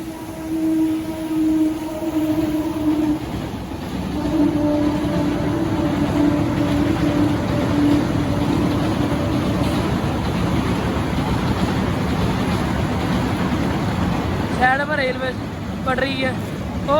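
A train rumbles past nearby with a continuous heavy roar and a long horn tone, while people on a rainy pilgrimage walk to Naina Devi talk over the noise.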